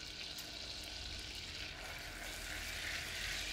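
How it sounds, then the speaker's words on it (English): Vanilla syrup sizzles steadily in a pan, a quiet, continuous crackling hiss that holds even and close throughout, with no talking. "So you can hear my syrup sizzling away."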